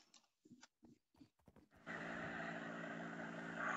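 A horse in a building video game makes a drawn-out whinnying, snorting call after several short clopping sounds.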